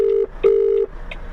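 A phone call placed from a parked HGV truck cab rings out: two long steady ring tones with a short gap between, followed by a fainter tone, close and clear over quiet cab hum.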